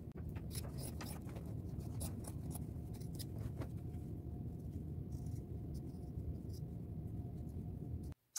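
Scissors cut flowers out of fabric, giving a run of short crisp snips and soft rustles in the first half that thin out later, quiet and close over a low background rumble, no speech.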